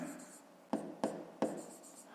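Hand writing of a math expression for a fifth-grade exercise, with soft pen scratching and three sharper taps as strokes begin, close and quiet.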